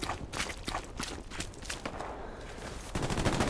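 Dense, continuous gunfire from the World War II shooter Hell Let Loose, with rapid bursts and single cracks layered over running footsteps, loud and busy throughout with no voices.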